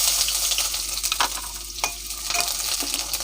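Onion frying in about three spoons of oil in a pan, giving a steady close sizzle with occasional stirring scrapes and no talking.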